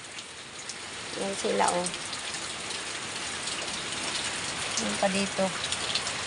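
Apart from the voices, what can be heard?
rain falling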